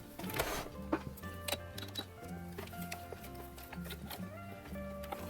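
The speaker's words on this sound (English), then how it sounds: "Now we stitch all the way around very close to the top." A sewing machine runs a top stitch around a Star Wars jumpsuit close to the edge, its quiet, rapid mechanical ticking steady and rhythmic throughout.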